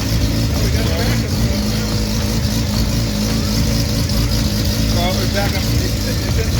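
A Mazda RX7 E Production race car idles on two plugs with a steady, uneven engine rumble that runs throughout, while people talk close by.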